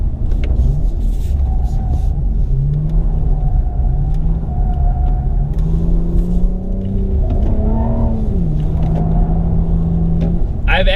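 A 2020 Toyota Avalon TRD accelerating at full throttle, a loud engine drone climbing in pitch across several gear changes, heard from inside the cabin with a person talking over it.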